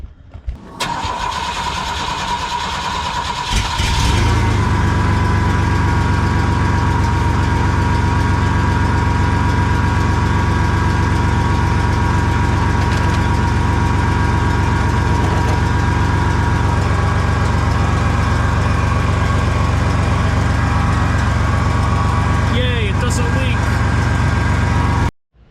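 An OBS project truck engine cranks briefly and catches, then settles into a steady, loud, close idle that runs without a break to the end.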